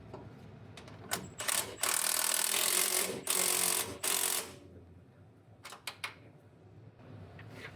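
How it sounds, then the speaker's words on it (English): Ratcheting wrench clicks run in quick buzzing bursts as nuts are tightened on a 1971 GMC C10 shortbed truck during an engine swap, with several sharp isolated ratchet ticks near the end. "You gotta love these ratcheting wrenches."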